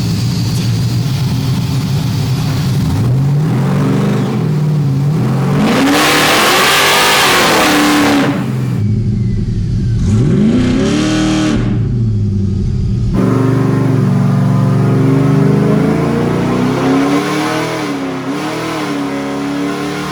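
Chevrolet C10 squarebody pickup engine revving hard on a dyno, loud sustained pulls with rising and falling pitch, gear-like sweeps, close and continuous with no talking.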